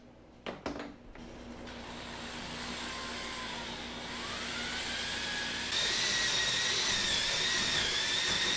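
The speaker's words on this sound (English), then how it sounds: "You can kind of hear it catching on the edge of the metal there." A power tool cuts sheet metal for a dance pad replica build, a loud continuous whining grind that shifts in pitch as the blade catches and binds on the metal edge, growing harsher toward the end.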